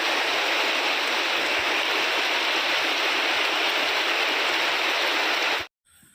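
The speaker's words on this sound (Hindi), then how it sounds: "बारिश जोर से आ रहा है" Heavy rain pours down in a dense, constant hiss, loud and unbroken for several seconds before cutting off abruptly near the end.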